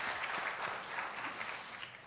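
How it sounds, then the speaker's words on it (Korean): A church congregation applauds to welcome a visiting family, a steady wash of clapping heard from a distance and fairly soft. "박수해 주세요."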